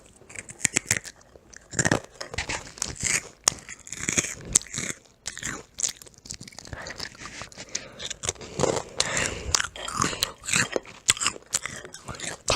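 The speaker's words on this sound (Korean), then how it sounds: "먼저 초코과자를 먹어볼게요 별같이 생겼어" Sharp, close crunching bites and chewing of a star-shaped Hershey chocolate crunch snack, irregular crisp cracks repeating throughout with no talking.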